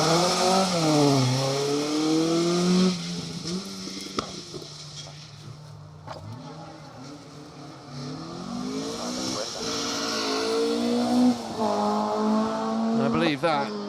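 A Ford Escort Mark II RS 2000 period-recreation rally car on a historic rally stage revs hard and climbs through gears, growing near and loud before fading, while a commentator talks over it.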